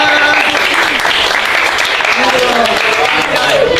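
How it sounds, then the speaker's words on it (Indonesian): Audience applause fills a classroom-style gathering, steady and loud for the whole stretch, with voices talking over the clapping. "Tepuk tangan buat semuanya."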